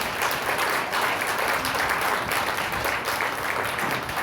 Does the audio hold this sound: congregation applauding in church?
yes